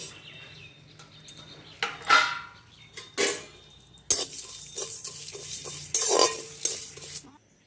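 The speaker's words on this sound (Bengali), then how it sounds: "প্রথমে এই মশলাগুলো আমি কাঠখোলায় আগে ভেজে নেবো" Spices dry-roast in a wok set over a clay oven, a spatula scraping and clattering against the metal in irregular bursts with faint crackling between strokes, close by and unaccompanied by speech.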